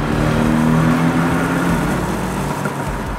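A Porsche 718 Boxster S engine revs under acceleration, a loud, rough, deep drone that holds steady for a few seconds and eases slightly toward the end.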